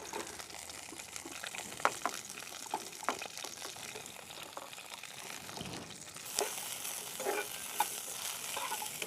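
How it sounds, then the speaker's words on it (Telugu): Green chillies and garlic fry in a little oil for a mint chutney, giving a steady close sizzle with repeated scraping and stirring clinks and no voices. "ఇప్పుడు కొంచెం నూనె వేసుకొని పచ్చిమిరపకాయలు వెల్లుల్లి వేయించుకుందాము"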